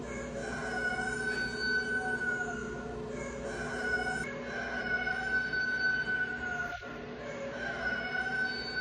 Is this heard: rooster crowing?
yes